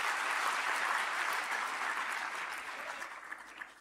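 An audience at an International Biological Diversity Day event in Bhopal applauds, dense sustained clapping from many hands that holds steady and then tapers off toward the end.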